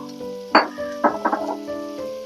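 Vinegar splashed into a pan of frying capsicum gives a few sharp sizzling bursts over a steady low frying hiss, close and moderately loud.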